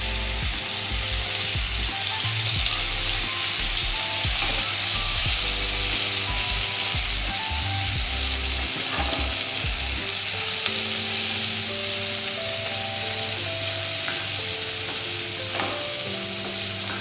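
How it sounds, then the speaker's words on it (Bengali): Ginger, garlic and chili paste fries in hot ghee for dal makhani, giving a steady, close sizzle that runs without a break and with no voices. "এটা ঘিয়ের মধ্যে দিয়ে দিলাম।"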